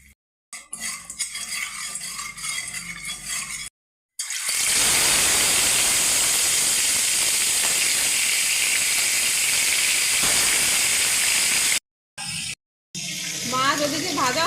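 Fish fries in two spoons of oil with a little salt in a kadai, giving a loud, sustained sizzling hiss after a few clinking utensil sounds, with brief cuts and a voice in places.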